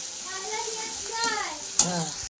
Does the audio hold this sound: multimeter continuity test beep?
no